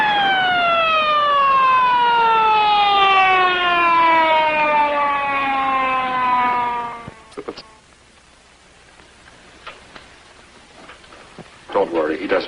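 An ambulance's wailing siren sweeps down in pitch for several seconds, loud and close, then cuts off, leaving quiet background with a few faint knocks.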